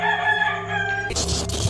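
A rooster crows loudly and close by, a stretched harmonic call lasting about a second, then a harsher burst of squawking at the end.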